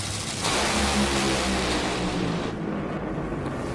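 A drag racing car accelerating at full throttle on a run reaching 336 mph, a loud, continuous roaring engine blast that holds steady for several seconds before easing slightly.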